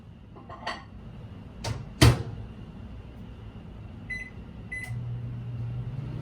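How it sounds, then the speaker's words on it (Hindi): A microwave oven heats homemade mawa, its low steady hum running throughout, punctuated by a few sharp clicks and a louder knock or door clunk early on, with a faint beep-like tone later. "दोबारा से माइक्रोवेव में रख देना है"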